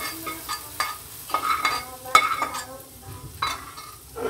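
Hot tadka tempering is poured into a pot of kadhi and stirred, giving close sizzling bursts with scraping spoon strokes against the pot and occasional clinks, fairly quiet and with no talking.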